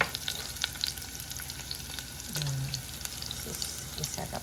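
Chicken sizzling and frying in a pan for chicken soup, a steady close hiss with faint stirring scrapes throughout and a short low tone partway through.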